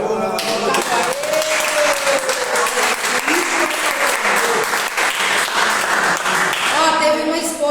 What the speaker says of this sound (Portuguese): Triste, mas vamos aplaudir.